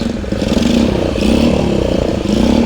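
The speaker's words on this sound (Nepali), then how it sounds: "यति बेला मेरो आविष्कार बाइक आज स्टार्ट गरेर लान लागिरहेको छु" A homemade invention bike engine running loud and close, revving in repeated surges with a buzzing, rattling mid-pitched drone.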